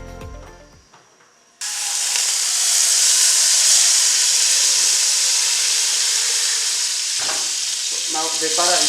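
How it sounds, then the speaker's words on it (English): Butter sizzles loudly in a hot pan, a broad continuous frying hiss that starts suddenly after a soft moment and holds steady, with a few stirring clatters near the end. "So now the butter is melted."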